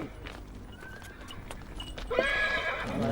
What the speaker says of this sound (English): Usually these animals pull farm carts, but today they're war horses.